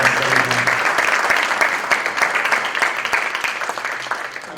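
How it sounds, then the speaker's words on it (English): A town hall audience in Jersey City breaks into a steady round of applause, dense clapping that stays loud throughout and tapers slightly near the end, with no speech over it. "if we could just give a round of applause for these."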